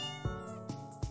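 Three short meows from a cartoon cat character in the video game Melon Journey, close and clear with a steady musical tone running underneath.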